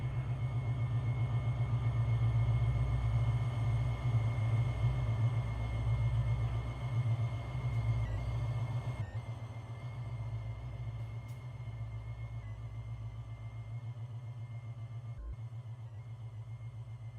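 A diesel freight train rolls past in the railway game Rails of Unionville, with no horn. It is a low, steady rumble that holds even and fairly quiet throughout, with faint rail noise on top.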